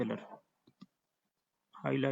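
Two short mouse clicks sound close and isolated in a quiet pause while someone demonstrates text highlighting in MS Word, with talk before and after.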